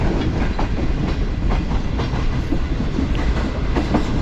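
Green Line Express train running on rails past a junction station on the Lahore to Karachi line, a steady loud rumble with repeated clickety-clack wheel beats throughout.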